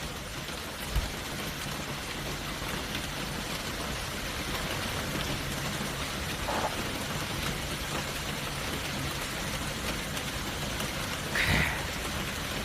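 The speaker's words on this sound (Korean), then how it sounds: "제가 그 빗물이 떨어지는 나뭇잎을 바라보는 그 빗소리 영상 한 10초 한번 보실까요?" Steady rain falling on leaves, a dense even patter that holds throughout with a couple of brief louder drips or knocks, no voices over it.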